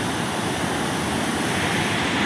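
Powerful gushing water roars steadily at Old Wawa Dam, a loud, dense, continuous rush of churning flow close by with no letup.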